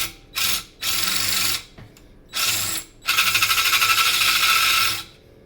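Bursts of drilling into a Yamaha XS650 motorcycle part, a hole being opened out toward 5/16 inch, in four separate passes of steady buzzing, the last one longest, close and loud with no talk.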